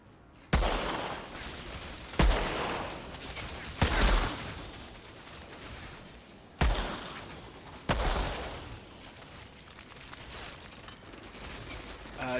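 Gunfire from shooting enemies in the video game Outriders, sharp loud shot bursts repeating every second or two with decaying tails and mechanical clatter between them.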